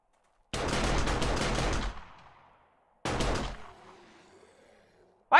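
An automatic turret in 7 Days to Die fires two sustained bursts at zombies, each a loud dense rattle lasting over a second and then trailing off into quiet, with a short sharp sound at the very end.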